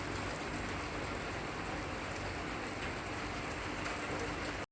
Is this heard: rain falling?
yes